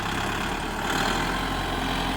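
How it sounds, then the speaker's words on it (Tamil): A Kubota MU5501 55 hp 4WD tractor engine idles with a steady, even, close-up diesel drone that holds unbroken throughout. "இன்ஜின் பாருங்கள் அவ்வளோ சவுண்டு கம்மியாக இருக்குதுன்னு"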